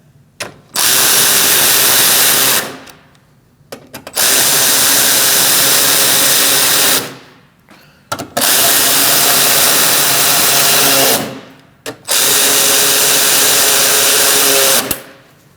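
Power tool driving bumper bolts on a 2016-2019 Chevrolet Cruze 1.4L during radiator replacement, running in four long loud bursts of about three seconds each, separated by short pauses.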